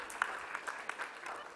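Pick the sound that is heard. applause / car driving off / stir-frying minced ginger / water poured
applause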